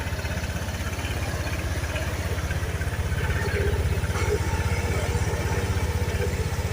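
A Japanese motorcycle imported for sale runs at a steady idle nearby. The engine gives a rapid, even low thumping that stays constant throughout, with a faint mechanical clatter on top and no speech.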